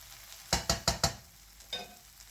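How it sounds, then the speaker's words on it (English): Sausages, sautéed vegetables and ketchup being stirred in a pan, four quick spoon scrapes in a row, then a pause and one softer stroke over a faint sizzle. "Now we're gonna mix all that in. The sausages with the sauteed veggie and the ketchup."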